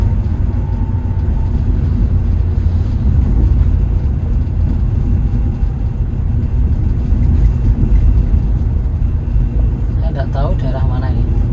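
Toyota Avanza Veloz driving downhill from the foothills of Mount Wilis on a village road near Madiun, a steady low engine and road rumble heard from inside the cabin throughout, with speech over it.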